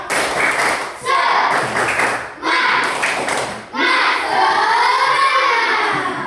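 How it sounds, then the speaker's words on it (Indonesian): A classroom of children repeats a spirit clap routine: rhythmic bursts of clapping and chanted shouts in several rounds, close and loud, closing with a longer group chant. "Ulang lagi, tepuk semangat."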